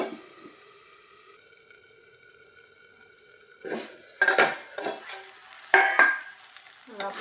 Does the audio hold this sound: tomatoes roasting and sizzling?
yes